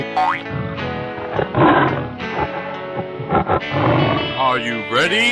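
A cartoonish tiger roar from a 3D animal slide game sounds loud and distorted, layered with playful electronic boing effects and music-like tones across the whole stretch.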